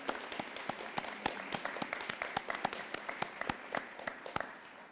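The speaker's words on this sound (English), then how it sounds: "give yourselves a round of applause, class of 2020" Scattered clapping from a small group at a college graduation ceremony, individual sharp claps audible in an uneven rhythm, moderately close and steady throughout.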